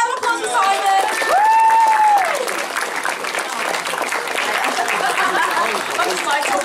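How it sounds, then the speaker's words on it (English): A crowd at a Ponycon UK convention in Leeds breaks into steady applause with some cheering and whooping, dense clapping filling the room while a voice calls out briefly. "No, give a round of applause for Simon."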